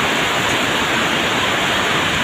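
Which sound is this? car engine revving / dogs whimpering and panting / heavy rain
heavy rain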